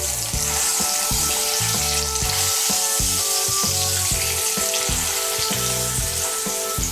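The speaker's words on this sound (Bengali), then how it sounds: "তেলটা গরম হয়ে গিয়েছে, এর মধ্যে আমি ডিমগুলো ভেজে নেব।" Eggs coated in salt, turmeric and a little chili powder frying in hot oil, giving a loud, steady, close sizzle with intermittent scraping and stirring knocks throughout.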